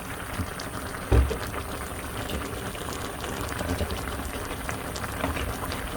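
Soup seasoned with anchovy fish sauce bubbles in a pot for mussel tteokbokki, a steady close simmering texture with one brief clunk near the start.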